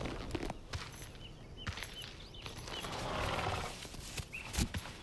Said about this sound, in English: I rode up to it, dismounted and tied off my horse.